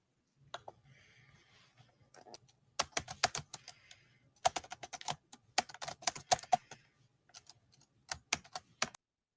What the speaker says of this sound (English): I muted your keyboard